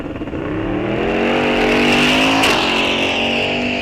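A 1969 Chevelle muscle car roars hard down the drag strip at Rock Falls Raceway, its loud engine note climbing steadily in pitch as it accelerates through one continuous, close-up pass.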